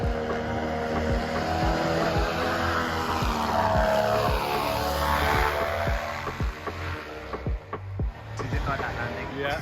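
Bear Grylls' flying sky car buggy with its new engine, a loud buzzing propeller engine droning close by with rapid rhythmic pulses and shifting pitch, steady and prominent throughout.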